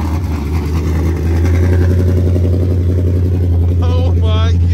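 A car fitted with custom budget race dump exhaust pipes cold-starts and settles into a loud, lumpy idle, a deep steady rumble with a throbbing low pulse, while people talk briefly near the end.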